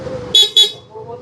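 Stock horn on a Yamaha Aerox v3 scooter sounds in two short, loud, bright honks with a brief gap between them, over the soft idle of the engine.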